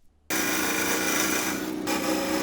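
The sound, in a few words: parting tool cutting grooves in wood on a lathe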